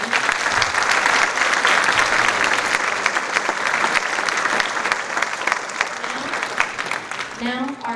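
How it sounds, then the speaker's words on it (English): An audience at a high school Veterans Day program gives a loud, sustained round of applause with many distinct claps, easing slightly near the end as a voice begins speaking. "Let's give them a round of applause, everybody."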